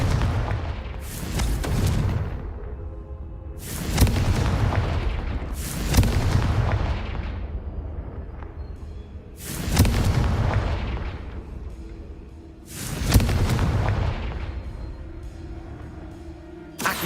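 Confringo fire spells blast in Hogwarts Legacy, five loud booming explosions a few seconds apart, each with a rumbling decay and no talk.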